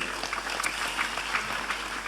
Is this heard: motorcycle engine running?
no